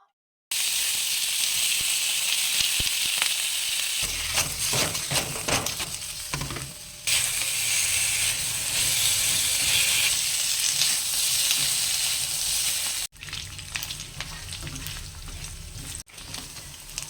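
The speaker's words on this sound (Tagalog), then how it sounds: "Let's cook pork stir fry with eggplant." Pork and eggplant stir fry frying loudly in a pan, a steady close sizzle with clanks and scrapes of stirring throughout, briefly cutting out twice near the end.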